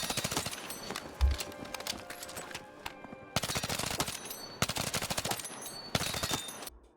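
Rapid automatic gunfire on a video game firing range comes in several sustained bursts of sharp, dense shots. It is loud and close, with brief gaps between the volleys.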